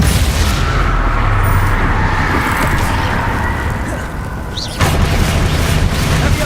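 Confringo spell explosions in Hogwarts Legacy, a loud, continuous booming roar with rumbling low end that fades slightly, then a fresh blast bursts in near the end.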